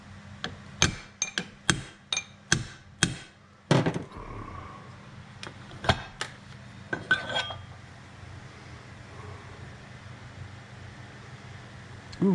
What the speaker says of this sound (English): Hitting a drill bit with a hammer?